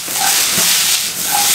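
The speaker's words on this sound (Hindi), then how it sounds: "तकरीबन 1 मिनट के लिए और इन्हें फ्राई करना है" Chicken steak pieces frying in a hot pan with white salt and black pepper, giving a steady broadband sizzle and hiss that stays loud and continuous throughout, with no talking.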